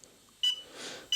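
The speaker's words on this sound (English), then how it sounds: "To pop it into headless mode, you press this one, and then you do get that beep, constant beep" A WLtoys Q303A quadcopter transmitter switched into headless mode gives short, high, thin beeps, two of them less than a second apart in a quiet room.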